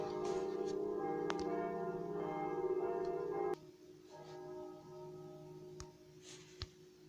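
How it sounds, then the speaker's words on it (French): Church bells ring in a sustained, resonant peal of overlapping tones, loud at first and then dropping to a softer, lingering ring with a few faint clicks. "je vais faire une pause pendant que les cloches sonnent"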